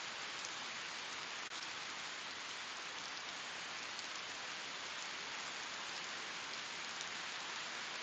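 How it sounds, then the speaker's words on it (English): Steady, dense rain drums on a tent through the night in windy weather, a continuous even hiss with no gaps and no voices. "It's so hard to hear the thunder over all the rain hitting the tent."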